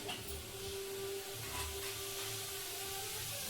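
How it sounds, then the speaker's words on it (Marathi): A modak filling of coconut, jaggery and cardamom cooks in a pan on a gas stove, giving a soft, steady sizzle with faint stirring, no voices over it. "हे आम्ही गॅसवरती बनवून घेतोय सारण"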